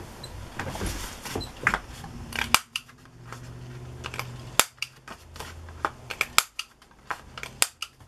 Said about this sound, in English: I think I want to corner punch them.